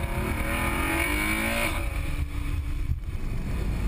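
Ferrari FF with four-wheel drive at full throttle out of a corner, engine roaring loud and close with rising harmonics, easing off after about two seconds.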